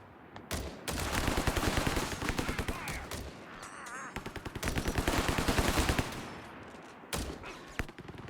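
Machine gun and rifle fire in the strategy game Company of Heroes 3 pour out in dense, rapid bursts and overlapping volleys, loud and close, with brief gaps between strings of shots.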